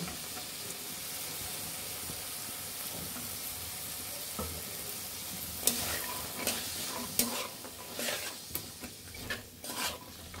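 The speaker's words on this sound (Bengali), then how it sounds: "এখন আমরা সিমের বিচিগুলো দিয়ে দিব।" Bean seeds go into a pan of fried spices for a Bengali bean seed dish and are stirred, starting with a soft steady sizzle, then scraping and clinking of a spoon against the pan in repeated strokes, close by.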